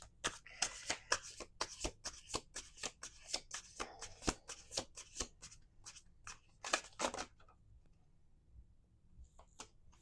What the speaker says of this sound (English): We're going to keep shuffling.